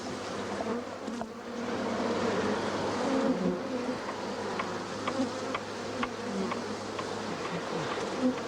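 A steady, dense buzz from a honeybee swarm being transferred by a beekeeper, continuous and fairly loud throughout, with a few faint clicks and knocks underneath.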